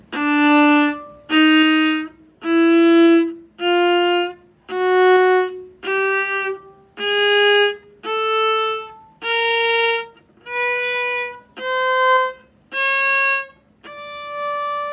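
A violin climbs a D chromatic scale one bowed note at a time, about a dozen evenly spaced sustained notes, each rising by a half step.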